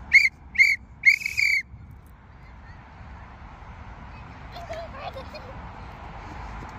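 A coach blows a whistle during goalkeeper training on a field, three short shrill blasts in quick succession, loud and close, followed by quiet outdoor ambience.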